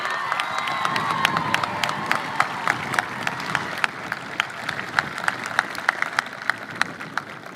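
Audience at a Canyon High School class of 2021 graduation ceremony applauds, with steady clapping and a few sharp, evenly spaced claps standing out over a soft crowd murmur.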